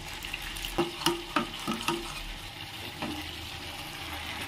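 Red chilli powder and spices frying in a pan for a jackfruit dish as a little water goes in: close sizzling and stirring with a few clattering utensil knocks early on, then a steady low fry.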